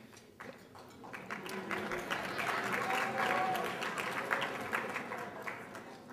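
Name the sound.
audience applauding and cheering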